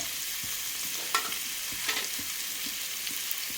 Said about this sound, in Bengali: এবার একসাথে ভালো করে আবারও কষাতে হবে